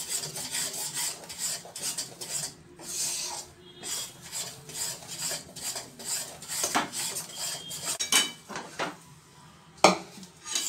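A spoon scrapes and stirs roasted flour around a pan off the heat, a steady close rasping and clinking of metal that comes and goes in rhythmic strokes with no voices.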